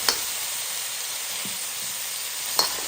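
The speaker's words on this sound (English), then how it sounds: "I just set it down there and I squirt some oil on it. Oh, bam! And it gets this garlic oil thing going on." Garlic sizzles in oil in a frying pan for a pepper steak, a loud, steady close-up hiss with a couple of light clicks from a utensil at the start and end.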